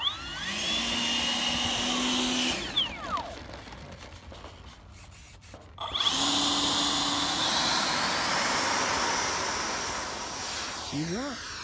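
A model jet plane, alongside a T-28 model, flies past at an RC flying field, its loud turbine whine rising and falling with a Doppler sweep as it passes, fading briefly, then roaring by again, with people talking nearby.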